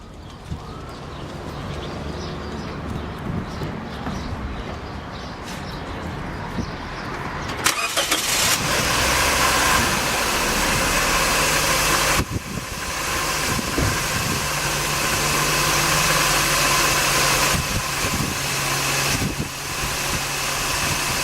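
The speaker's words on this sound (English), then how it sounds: "I turn it on and it should start, and listen to how it idles." A 2006 Scion xA engine, just fitted with new alternator and power steering belts, cranks and fires partway through, then settles into a steady, loud idle with no squeal.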